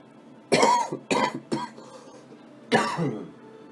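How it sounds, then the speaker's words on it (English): A person coughs four times in short, sharp bursts, three in quick succession and then one more after a pause, close and clear with near silence between. "I may or may not be editing my coughs out"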